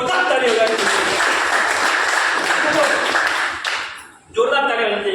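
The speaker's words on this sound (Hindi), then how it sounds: "जोरदार ताली हो जाएगी" A seminar audience breaks into loud applause during a business plan talk, with sustained clapping that dips briefly near the end before a voice takes over.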